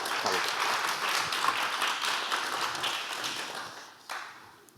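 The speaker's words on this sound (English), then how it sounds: "Please give them a clapping hand." An audience at an evening event honouring the master of ceremonies breaks into steady applause: dense, continuous clapping from a crowd that slowly fades, with one sharper clap near the end.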